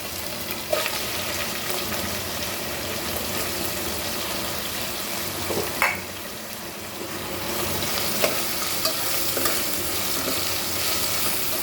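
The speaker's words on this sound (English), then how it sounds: "fry this nicely" Spring onion frying in a pan for a Goan raw papaya stew, a continuous dense sizzle with a few light stirring knocks, close and steady throughout.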